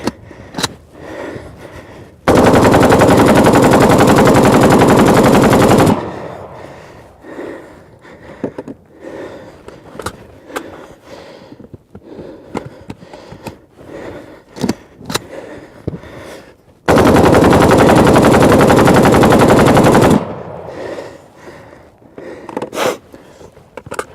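Two sustained, very loud bursts of full-auto fire from an AK Kalashnikov rifle, each about four seconds long with a dense, continuous rattle, separated by a stretch of scattered handling noises and quieter clatter.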